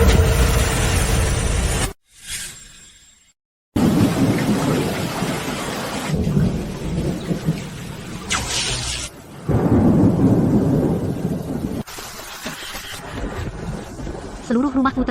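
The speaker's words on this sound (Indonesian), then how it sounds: "Benar-benar hujan? Hujan lebat." Heavy rain pours down with thunder rumbling, a dense steady roar broken by a brief near-silent gap, with voices speaking over the storm.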